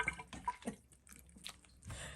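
Water spills out onto a kitchen counter, a few soft drips and light splashes, quiet and close, with short pauses between them.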